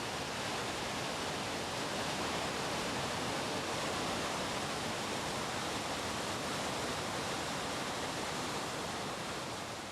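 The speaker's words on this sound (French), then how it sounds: "Mais au pied de la cascade," Powerful waterfall roaring steadily at the foot of the cascade, a dense, unbroken rush of falling water that stays loud and even throughout with no voices.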